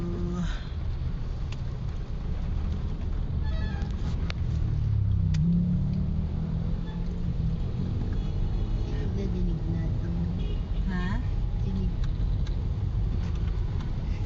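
Heavy road traffic on the way from Pasay to Magallanes: a steady, dense rumble of cars and engines with occasional revving, continuous and fairly close, with no voices.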